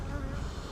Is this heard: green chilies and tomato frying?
no